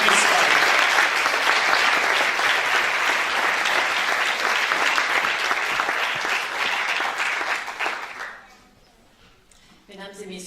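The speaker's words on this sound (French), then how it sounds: "une bonne main d'applaudissements, s'il vous plaît" Audience applause fills the opening of the 26th Présence autochtone festival in Montréal, a dense, steady clapping from a large crowd that holds for about eight seconds before fading, with a voice starting to speak at the end.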